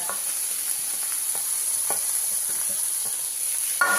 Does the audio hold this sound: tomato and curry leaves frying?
yes